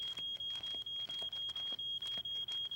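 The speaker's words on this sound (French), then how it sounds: "Mon pain a brûlé et la fumée a déclenché l'alarme." A smoke alarm set off by smoke from burnt bread beeps rapidly and evenly, a thin high tone pulsing about four times a second, faint and steady with no voices.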